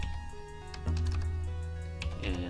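Fingers type on a computer keyboard in a few quick, soft clicking bursts over a faint tonal background.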